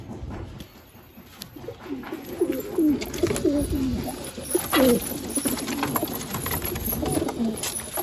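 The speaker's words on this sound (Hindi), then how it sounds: "और भाई ये अपना पुराना कबूतर है पंजाबी," Punjabi pigeons coo near and far in soft, throaty repeated rolls, several birds overlapping at an irregular pace over a low background murmur.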